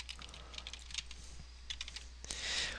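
Soft, quick keystrokes on a computer keyboard come in scattered clicks and short bursts, faint and close, with a slightly louder flurry near the end.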